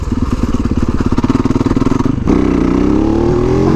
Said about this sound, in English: this is a hooligan bike, baby.